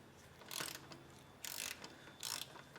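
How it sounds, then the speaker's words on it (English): Ratchet loosening the oil filter housing on a 2016–2023 Toyota Prius, three quick bursts of rapid clicking, close and fairly quiet, separated by short pauses. "Put my ratchet on there, and begin loosening it."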